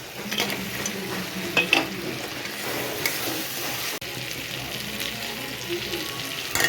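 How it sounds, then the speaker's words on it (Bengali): Fried fish heads going into a frying pan, a steady hiss and crackle of frying with stirring scrapes running throughout, moderately close with no one talking. "এবার ভেজে রাখা মাছের মাথাগুলো দিয়ে দেবো।"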